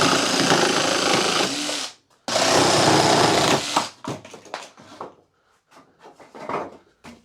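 Evolution R90JGS cordless jigsaw cutting through a piece of wood: two loud, rattling buzzes of the reciprocating blade, each under two seconds, followed by shorter bursts, clicks and pauses as the saw eases back.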